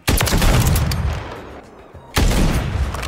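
Sniper rifle shots in an online shooter, two loud broadband cracks about two seconds apart, each trailing off into a rumbling decay.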